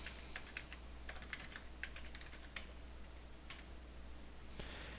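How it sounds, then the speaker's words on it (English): Keys clacking on a computer keyboard in steady, quiet bursts, close up and alone, with a low constant hum underneath. "Type in a description."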